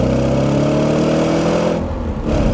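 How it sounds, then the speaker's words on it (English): An Audi RS4 engine revs hard and close, a rich mid-pitched roar that holds, dips briefly near the end, then surges back. "I'm seduced by this engine. I like the noise, I like the attitude of it."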